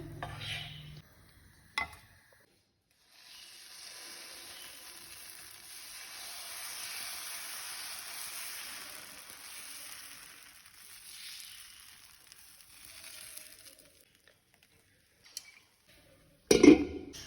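A crispy dosa cooking on a hot pan gives a soft, steady sizzle for several seconds, bracketed by a few sharp clinks of a spatula against the pan as it is lifted off.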